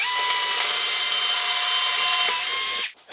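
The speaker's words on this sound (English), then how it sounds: "I'm just picking a spot and drilling" A power drill bores a hole during a garden office setup, its whine loud, steady and continuous for nearly three seconds before cutting off abruptly near the end.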